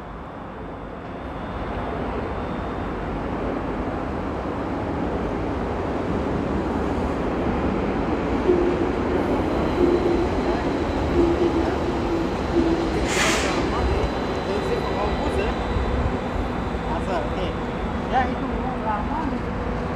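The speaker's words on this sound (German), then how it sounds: "Ich weiß nicht, ob ihr diese Train-Geräusche auch irgendwie braucht oder so." A train rumbles and hisses steadily nearby as it pulls into a station, with a brief high squeal of brakes midway.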